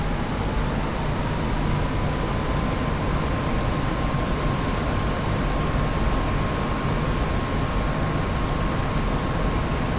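F-86F jet engine at full throttle in the DCS flight simulator: a loud, unbroken roar with a steady whine, constant and unchanging throughout.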